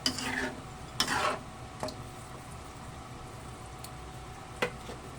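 A spoon stirs turmeric powder into a jackfruit and coconut milk stew, giving soft scraping strokes and wet squishes against the pot over a quiet simmering hiss.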